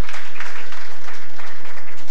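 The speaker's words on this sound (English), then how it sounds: "Round of applause for them," An audience at a presidential investiture ceremony gives a sustained round of applause, a loud, dense wash of clapping from many hands filling the hall.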